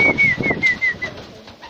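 Pigeons being hand-fed murmur with soft, close cooing in a few short low pulses, under a thin steady high whistle.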